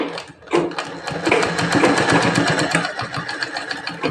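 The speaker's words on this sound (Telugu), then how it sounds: "ఇలా ఈ సైడ్ జాయింట్ నుంచి ఇలా కుట్టేసుకోవాలి" Sewing machine stitching the side seam of a prince-cut blouse, a rapid continuous mechanical chatter starting after a brief pause and running steadily close up.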